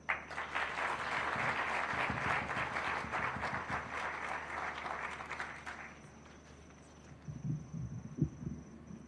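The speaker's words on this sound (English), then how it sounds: "Let's appreciate our director with more heartier clap" Audience applause at an event celebrating 15 years of Google in Kenya, sustained dense clapping for several seconds that fades out, followed by scattered faint noises.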